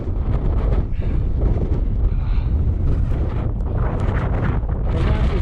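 Strong gusting wind on the slopes of Y Lliwedd mountain roars loudly and continuously across the microphone, buffeting without pause in poor visibility.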